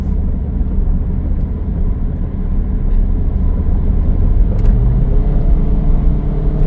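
Ford Fiesta 1.6 pulling hard on a toll road near Depok, a steady loud engine drone and road rumble with the pitch gradually rising under kick-down acceleration, no talking.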